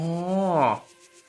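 Drilling in the game Nova Lands: a single rising whirring tone with stacked harmonics that swells, peaks briefly and cuts off, leaving a low residual hum.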